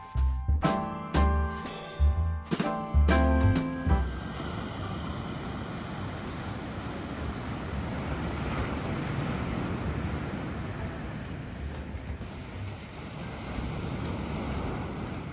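Ocean surf rolls onto a beach at sunrise as a steady, broad wash of breaking waves, with wind buffeting the microphone. A few loud rumbling thumps come at the start before the surf settles into an even roar.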